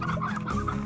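Chickens cluck in Slime Rancher, quick gobbling fowl calls, close and fairly loud, filling a brief moment with no talk.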